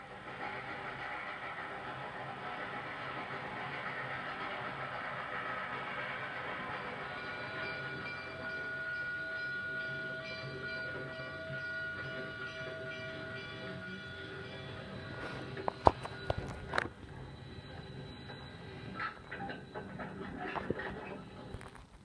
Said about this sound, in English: A steam locomotive couples onto its train